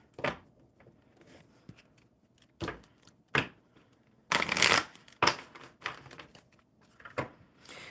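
A deck of playing cards is shuffled in several separate bursts, each a quick riffle or rustle. The bursts come at irregular gaps, with one longer, louder riffle partway through and quiet pauses between them.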